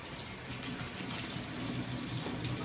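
Freshly harvested eggplants are rinsed under a running tap, producing a steady, close splashing wash of water that continues without pause and without any talk.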